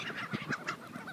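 A flock of birds honks loudly in a feeding frenzy over a loaf of bread, a rapid run of close, overlapping goose-like calls.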